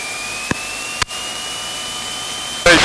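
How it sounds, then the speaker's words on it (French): Light aircraft engine running steadily at 1800 rpm with a constant drone and hum, interrupted by two brief clicks and a louder burst of noise at the end; no talking. "Régime moteur 1800."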